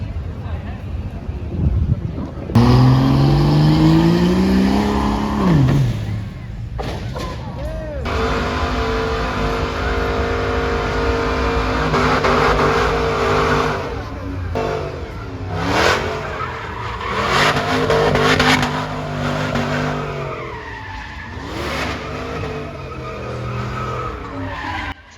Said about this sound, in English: the Jeep has a Hellcat motor in it, and so that's why it's just sitting there doing burnout after burnout